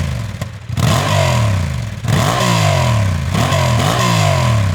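A 2023 Honda CB750 Hornet with a Euro 5 compliant engine revs hard three times, each rising sharply then falling back to idle, loud and close with no speech.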